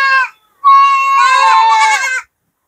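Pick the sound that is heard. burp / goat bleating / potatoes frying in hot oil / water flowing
goat bleating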